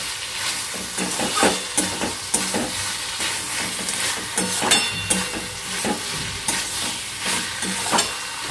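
Chicken filling for oats rolls sizzles loudly in a frying pan while being stirred, with repeated scraping strokes and bursts of steam hiss across the whole stretch; no one speaks.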